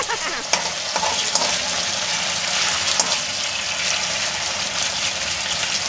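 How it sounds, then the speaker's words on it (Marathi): Potato pieces frying in hot oil for sabudana khichadi, a steady close sizzle and bubbling that fills the whole clip with no talk. "तर मंडळी आता आपला बटाटा हा बऱ्यापैकी तळलेला आहे"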